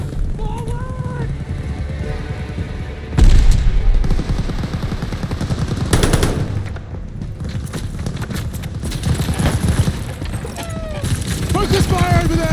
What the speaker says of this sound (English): LMG's tearing this place apart!